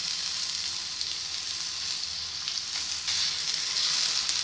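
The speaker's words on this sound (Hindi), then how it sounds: "तो हल्का सा हमने सौते करना है, बहुत ज़्यादा कलर नहीं लाना प्याज का।" Chopped onion, tomato and green chili sauté in a pan, giving a steady, close sizzling hiss that grows slightly louder toward the end.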